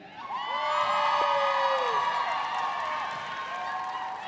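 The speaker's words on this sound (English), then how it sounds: "Graduates, at this point in time, graduates, I would like you to cheer for them." Audience at a Georgia Military College commencement ceremony in Valdosta cheering for graduates, a sustained mass of whoops and cheers with some clapping, swelling quickly, then slowly fading over several seconds.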